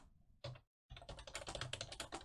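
Rapid keyboard typing up close, a short burst of clicks, a brief pause, then a steady run of key presses.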